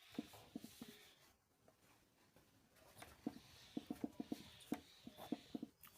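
Pen or pencil writing on paper while working a Class 12 maths problem: scattered light scratchy strokes and taps in short bursts, faint and close, with no talking.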